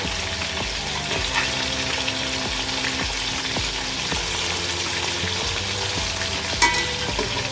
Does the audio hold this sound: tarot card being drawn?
no